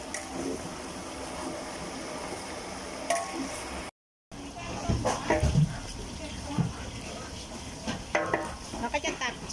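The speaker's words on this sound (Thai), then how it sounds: "เราก็จะรวนไปเรื่อยๆค่ะ ให้หมูรัดตัวเลยนะคะ ให้น้ำมันออกให้มากที่สุดเลยค่ะ" Pork belly is stir-fried in a large wok, its fat rendering out, with a steady sizzle, scraping and stirring clatter running throughout and a brief dropout partway. Someone talks over it.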